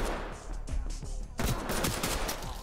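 Gunfire in the tactical shooter game Ready Or Not rings out in loud, rapid close-range bursts, with a dense volley swelling in the second half and no talk over it.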